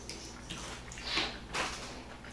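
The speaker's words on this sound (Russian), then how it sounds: "Потом промываю воду от слизи." Boiled egg noodles are rinsed under running water in a home kitchen, a quiet steady splashing stream with two brief louder gushes, heard close and without talk.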